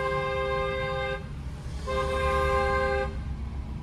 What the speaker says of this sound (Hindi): इनको हॉर्न दीजिए,